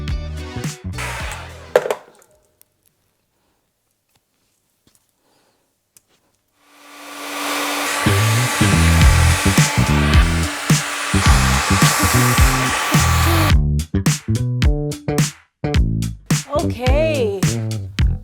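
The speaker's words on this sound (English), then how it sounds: "Let's dry this hair, shall we?" A hair dryer blows a steady broadband roar over curly hair for several seconds, starting after a quiet pause and cutting off abruptly, with short bursts of talk before and after.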